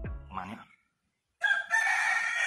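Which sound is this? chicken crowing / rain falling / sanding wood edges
chicken crowing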